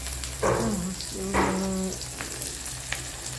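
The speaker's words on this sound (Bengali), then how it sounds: "আদা রসুন টসুন সমস্ত কিছু দিয়ে মশলাগুলো ভালো করে ভেজে নিতে হবে।" Spices frying with ginger and garlic in a pan, a continuous close sizzle with spoon scrapes, while a short voiced sound or hum rises twice over it.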